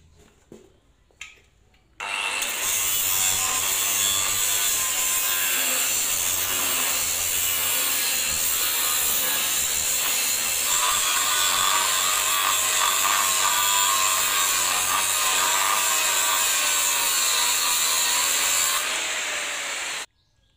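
A power tool cuts through the steel sleeve on a Canter truck's differential housing, a loud, continuous grinding whine holding for about sixteen seconds after a few brief knocks, then stopping abruptly.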